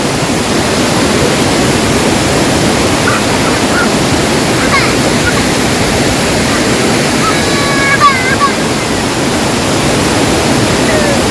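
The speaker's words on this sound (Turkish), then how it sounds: "Domara şelalesi." A loud, steady roar of the Domara waterfall in Trabzon, Turkey fills the whole stretch, dense and unbroken, close by, with faint birdlike chirps briefly audible.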